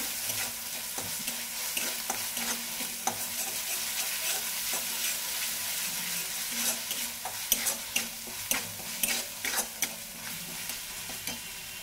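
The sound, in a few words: frying ginger garlic paste for papaya korma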